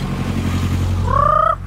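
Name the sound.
chicken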